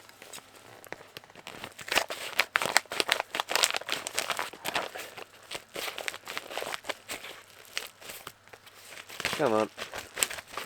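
Plastic packaging crinkles and rustles in quick irregular bursts as a package is opened with scissors, with snipping and tearing sounds, and a voice briefly speaks near the end.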